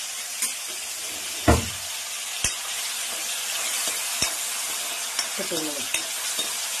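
Mushrooms fry in hot oil with a constant bright sizzle and hiss, broken by sharp spatula knocks against the pan at irregular intervals, while someone talks briefly over it.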